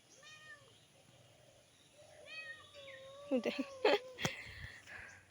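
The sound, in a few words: cat meowing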